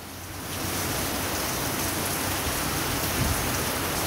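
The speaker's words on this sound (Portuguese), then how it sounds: "Grande chuva em Ribeira do Pombal, Bahia." Heavy rain in Ribeira do Pombal, Bahia, Brazil starts up after a brief quieter moment, then pours steadily in a dense, even roar of drops hitting surfaces nearby.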